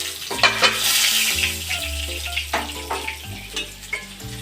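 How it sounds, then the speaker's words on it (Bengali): Potatoes frying in a pan for a chicken dish, a continuous close sizzle broken by sharp scraping stirs and clinks of the utensil against the pan, with a steady tonal hum underneath. "এভাবে আমার আলুগুলো ভাজা হয়ে গেছে"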